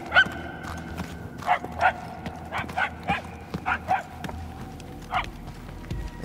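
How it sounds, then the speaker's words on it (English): A dog barking in the video game Guardians of the Galaxy, about a dozen sharp barks in irregular bursts, fairly distant and echoing through halls over a low ambient hum. "The barking is getting fainter."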